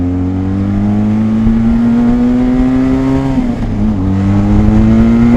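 A Suzuki Gixxer motorcycle accelerating under a rider on the road, engine droning loud and steady with rising pitch, a brief dip near the end as the revs shift, and no talking.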